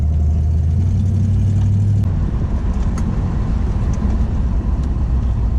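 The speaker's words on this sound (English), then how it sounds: "Idle is garbage." A 1985 Ford Mustang LX 5.0 V8 convertible idles roughly and loud, a steady low engine rumble that wavers unevenly throughout, close by with no talk over it.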